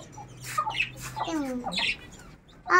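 Chicks squawk in short, bright bursts while a person speaks over them nearby, with a louder cry at the end.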